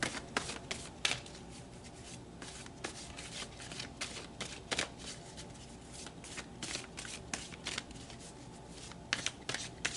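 A tarot deck is shuffled by hand, a continuous run of quick papery riffles and soft card slaps at close range and fairly quiet, with no one speaking.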